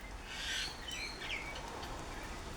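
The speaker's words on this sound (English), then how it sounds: "All the birds are singing the tunes right now." Wet birds, corellas among them, call after heavy rain: a few faint, thin chirps and whistles over soft background noise within a couple of seconds.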